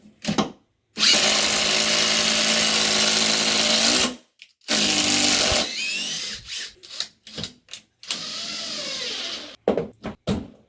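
Ridgid and Makita cordless drills run one at a time at full speed in loud, sustained whirring bursts of several seconds each, with pauses between, ending in short trigger blips.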